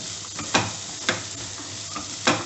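Sundal with coconut stirred in a pan: three or four distinct scraping strokes of a spoon over a steady soft sizzle, close up, with no talking.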